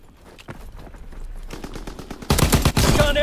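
Video game combat gunfire: rapid automatic bursts that grow from scattered, moderate shots into loud, dense volleys, with a short clatter that may be footsteps in between.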